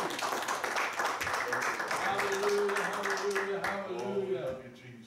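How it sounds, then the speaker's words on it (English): A church congregation claps hands in praise, a busy run of clapping with voices rising over it, tapering off near the end. "Give the Lord a hand clap of praise."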